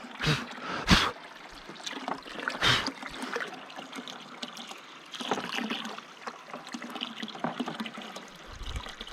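Water from a Little Giant 1/3 hp submersible pump trickles into a 32-gallon trash can, a soft continuous splashing with a few louder knocks and rustles nearby, no talk.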